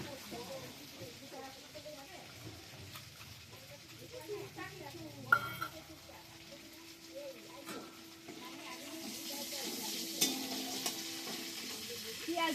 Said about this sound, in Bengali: এবার সাদা জিরে ফোড়নে দিয়ে দিলাম